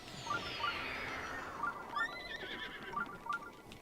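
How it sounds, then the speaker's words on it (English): Horse neighing in The Legend of Zelda: Breath of the Wild, a game whinny with a descending call, then shorter whinnies and hoof clip-clops over a steady ambient game background. "my horse is going to follow me since it has the armor"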